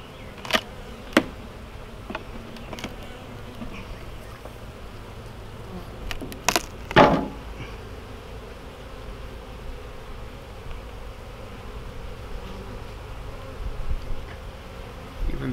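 Honeybees hum around an opened hive during spring colony management, a steady close buzz throughout with a few sharper clicks and knocks from handling the frames.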